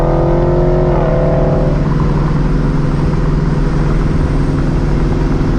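A supercharged New Edge Mustang GT roars loudly and continuously from close by, with a rising whine in the first second, then a sustained heavy engine drone.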